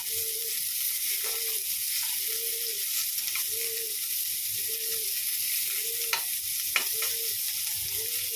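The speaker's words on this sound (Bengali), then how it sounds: "পটলটাও ভাজা হচ্ছে হোক" Sliced bitter gourd and pointed gourd fry together in hot oil in a home kitchen, giving a steady close sizzle with small soft pops and crackles throughout, and no talking.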